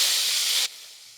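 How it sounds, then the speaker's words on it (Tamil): Thuthuvalai leaves and black pepper hit hot oil and ghee in a pan with a loud, close, bright sizzling hiss that cuts off abruptly, leaving a faint low hum. "போட்டுட்டு இந்த எண்ணெயோட நெய்யோட சேர்த்து அப்படி வதக்குறேன்."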